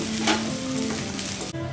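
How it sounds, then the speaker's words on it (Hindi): Idiyappam upma mixture roasting in a pan, a dense close sizzle with spoon scraping through it, cutting off abruptly near the end, no talking. "इन सबको हम इडियापम में अच्छी तरह मिला लेंगे और उसको चम्मच से हम भून लेंगे थोड़ी देर"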